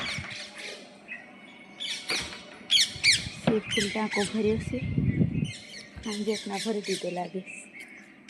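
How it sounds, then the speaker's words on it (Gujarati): Harsh, repeated parrot squawks ring out close by, mixed with chattering calls, while a person talks over them. "પોપટનો અવાજ આવે છે સરસ"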